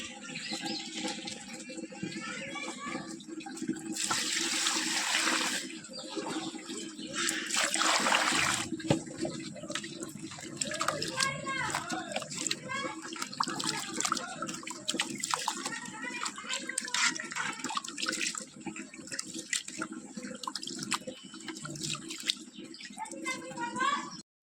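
Rice and a cut potato rinsed under running water in a home kitchen, with water splashing and trickling in bursts throughout, someone talking over it.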